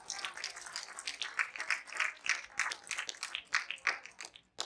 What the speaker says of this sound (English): give the Lord a hand clap up in here